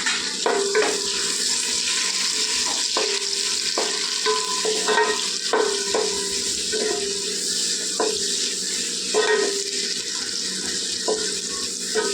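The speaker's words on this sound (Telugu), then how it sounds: "నూనె అయితే వేడెక్కిందండి ఇప్పుడైతే హోల్ గారం మసాలా వేసుకుందాం ఉల్లిపాయలు వేసుకుందాం" Whole garam masala and onions frying in hot oil at home, with a steady broadband sizzle and intermittent scraping stirs of a utensil against the pan, close and continuous with no voices.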